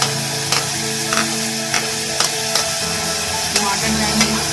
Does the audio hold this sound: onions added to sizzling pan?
yes